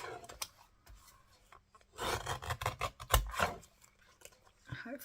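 A small paper trimmer slices collage paper in a few short, quiet scraping strokes, close by and mostly alone in a hushed room.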